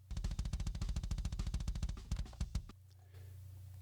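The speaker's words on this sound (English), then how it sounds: "So we got the kick condenser, sounds like this." A raw kick drum track from a condenser mic on a metal drum kit, with rapid double-bass kicks in a dense, even stream ending in a few spaced hits, close and dry.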